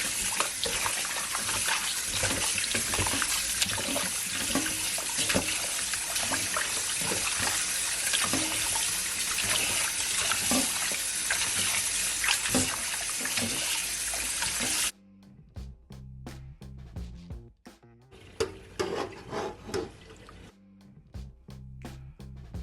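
Tap water gushes steadily into a sink while oxtail is rinsed clean, then cuts off abruptly and gives way to quieter splashes and handling noises, with a short second burst of running water.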